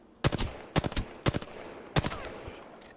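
Four close bursts of rapid gunfire strike the player in the video game Apex Legends, each a sharp cluster of shots separated by short pauses, loud and near.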